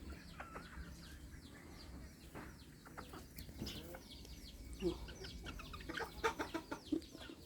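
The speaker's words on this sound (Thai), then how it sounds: "อันนี้ไก่แจ้" Bantam chickens cluck in a farm pen, a run of short, fairly close calls and clucks that grow busier toward the end over a steady low background hum.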